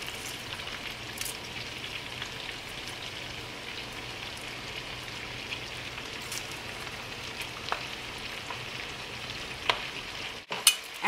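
Chopped cabbage sizzles in melted butter in a sauté pan, a steady broadband crackle throughout with scattered pops, ending in a brief louder clatter as the pan is handled.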